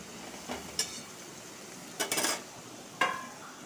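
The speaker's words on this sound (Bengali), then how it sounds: "শাকটাকে দিয়ে অল্প একটু নাড়াচাড়া করবো" Susuni greens frying with onions in a pan, stirred with a spatula that clinks and scrapes against the metal in several short bursts over a faint sizzle, close by, with no talking.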